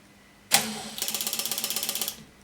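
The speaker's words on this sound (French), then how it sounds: "la vanne se ferme. Le ventilo se met en route." In an automatic wood pellet vacuum filling system, a valve closes with a sharp clack, then a fan starts with a rapid, even mechanical rattle for about a second before fading, close and fairly loud.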